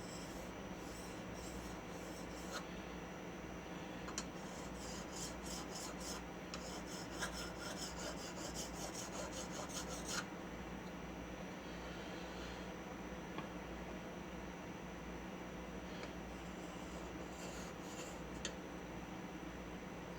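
The blade of an antique 1921 Stanley #40 scrub plane is honed on a stone, giving quiet repeated rasping strokes with faint scraping and occasional light clicks.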